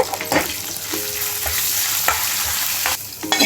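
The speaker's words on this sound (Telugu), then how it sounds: "పోపు దప్పలం పులుసులో వేసేసుకున్నామండి" A hot tempering of curry leaves, coriander and asafoetida is poured into a tamarind stew (dappalam pulusu), giving a steady close sizzle broken by a few brief clinks and splashes, with no talking.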